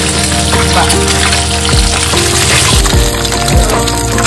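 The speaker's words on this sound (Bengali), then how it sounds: "ডিমগুলো ভাজা হয়ে গেল" Loud, dense sizzling and crackling of eggs frying in hot oil in a wok, with occasional sharper pops and clatter, close up.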